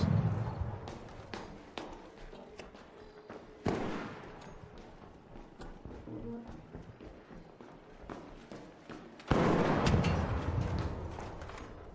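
Turret fire and sharp impacts in the shooter Arc Raiders, a few loud bursts breaking through low background rumble and shuffling movement, with quiet voices now and then.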